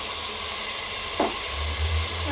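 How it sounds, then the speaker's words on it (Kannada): Ginger garlic paste sizzles steadily in a pan over fried onions, a constant close hiss with a brief stir scrape midway and a low bubbling burst near the end. "ಇವಾಗ ಶುಂಠಿ ಬೆಳ್ಳುಳ್ಳಿ ಪೇಸ್ಟ್ ತುಂಬ ಚೆನ್ನಾಗಿ ಫ್ರೈ ಆಗಿದೆ"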